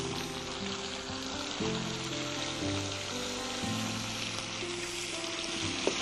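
A sauce with chili sauce and vinegar fries in a pan, giving a steady close sizzle with soft crackles and an occasional stirring clatter throughout, with no talk over it.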